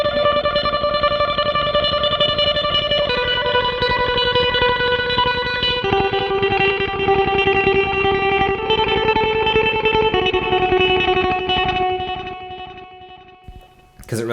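Electric guitar tremolo-picked through a Boss DD-20 Giga Delay in dual mode, rapid repeated notes smeared into a shimmering wash of echoes, shifting pitch every few seconds and fading out near the end.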